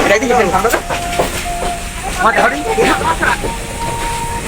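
A passenger train near Bogura rolls along the rails with a steady rumble and rhythmic clatter while a high whistle-like tone sounds in short bursts; people talk over the noise.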